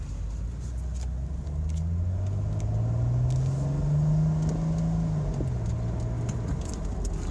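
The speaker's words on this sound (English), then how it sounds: "Turned around so I can get on the gas a little bit." A 2001 Mercedes-Benz SLK 320 heard from inside while driving, its engine droning steadily and rising in pitch as it accelerates, with road rumble underneath and no talk.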